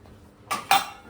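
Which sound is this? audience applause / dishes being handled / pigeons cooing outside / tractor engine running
dishes being handled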